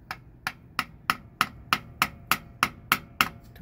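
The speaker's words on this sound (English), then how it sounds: "we'll get a big screwdriver go, get a little hammer, give it a little love tap" A small hammer taps a big screwdriver against a part of a Workhorse P32 chassis 4L85E transmission during an oil and filter change, about eleven sharp metallic knocks at a steady, even pace, close and clear with no talking.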